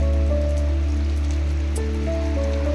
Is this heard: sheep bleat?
no